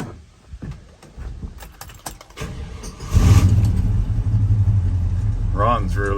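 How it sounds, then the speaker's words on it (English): A 1984 Chevrolet K20 truck engine cranks and catches, then settles into a loud, steady idle rumble close by. Faint clicks and handling noises come before the start, and a voice speaks briefly near the end. "We're going to start up our 84 K20."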